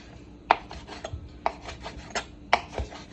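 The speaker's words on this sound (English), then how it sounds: "I'm going to cut up 6 strips of bacon. Just cut all the way through." A knife slices through strips of raw bacon on a board, several sharp cutting strokes with soft scraping rubs between them, close and quiet, with no talking.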